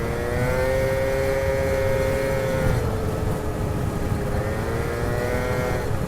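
A small scooter rides past, its engine whining in a sustained drone that holds steady, dips briefly midway, then picks up again. It sounds close and fairly loud throughout, and no one talks over it.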